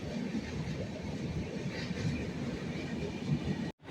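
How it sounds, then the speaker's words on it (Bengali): A train pulls into a local station near Bhubaneswar with a steady rumbling roar of wheels and carriages, close and continuous, under a faint background murmur. "এই জাস্ট ট্রেন ঢুকছে"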